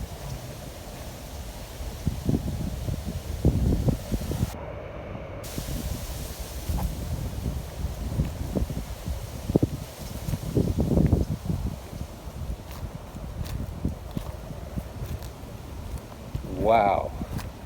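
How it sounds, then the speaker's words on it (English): Strong wind gusting through a local park in Ontario, California, roaring in uneven surges with rustling and buffeting, joined by a voice speaking partway through. "this is the strongest wind I've ever experienced here."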